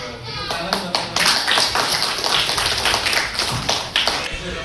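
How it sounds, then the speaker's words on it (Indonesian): Elementary school classroom applause: a group of schoolchildren clapping together in a loud, dense burst of many hands for their classmates, with voices talking over the clapping. "Tepuk tangan buat teman-teman."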